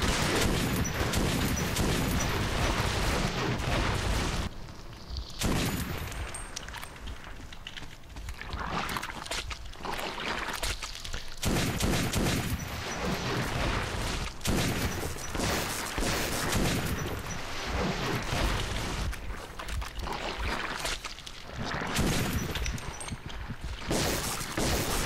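Gunfire and explosions from the shooter game Metro 2033 come in dense, loud bursts of rapid shots and blasts, with a few brief lulls between volleys, across the whole stretch and with no voice over them.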